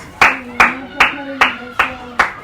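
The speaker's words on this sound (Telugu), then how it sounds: "మేము క్లాప్స్ కొడతాం. క్లాప్స్ కొట్టు." Hands clap six times in an even, steady rhythm, close and sharp, with a voice sounding faintly underneath.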